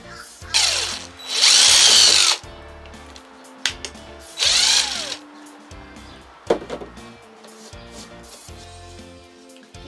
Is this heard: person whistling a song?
no